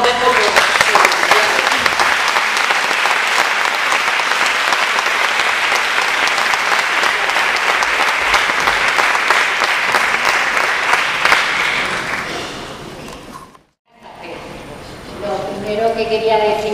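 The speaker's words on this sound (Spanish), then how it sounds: "os pido un aplauso para las dos" Sustained audience applause fills a hall at a Spanish cultural dialogue between two women, steady and dense for about twelve seconds before fading out; a voice begins speaking afterward.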